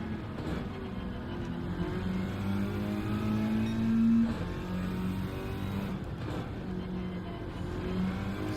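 A racing car's engine revs hard and steadily in a sim race at Monza, with rising and falling pitch as the driver works through the gears, loud and continuous throughout.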